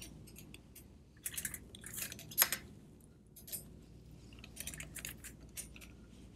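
Metal tools and bolts clink and tap on a CF vacuum flange as its bolts are tightened in small turns, giving scattered faint metallic clicks and a brighter clack, with no talking.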